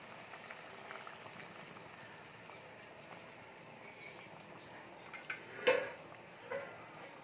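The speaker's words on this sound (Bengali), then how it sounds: "গ্যাসের ফ্লেমটা লো করে মিনিট 5 রান্না করে নেব।" Bengali boal fish curry with mustard simmers in a pan over a low gas flame, a faint soft bubbling with one brief metallic clink near the end.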